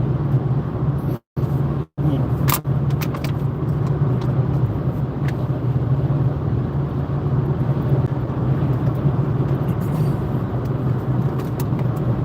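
A car cruises fast along a highway on a road trip, a steady loud roar of road and wind noise that continues throughout, with two brief dropouts near the start.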